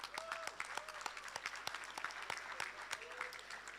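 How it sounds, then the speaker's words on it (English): Audience applause for the 2025 graduating class at an SAE University College graduation, a moderate, scattered patter of claps with sharp individual hits standing out, a voice or whistle briefly audible over it. "Right, let's give everybody a round of applause."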